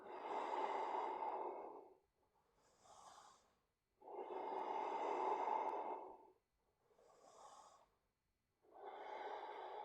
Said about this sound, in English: One more deep inhale, exhale